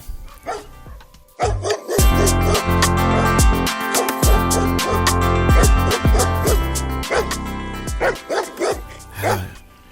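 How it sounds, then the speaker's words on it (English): Several dogs bark in Madeira, loud and close, with repeated overlapping woofs and yips that come in quick bursts across the stretch. "Either the dogs can hear me, or they just bark all fucking day."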